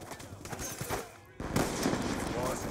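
Rapid gunfire in Call of Duty: Black Ops 2 on the Nuketown 2025 map, bursts of shots close and loud, busier in the second half, with voices talking over the game.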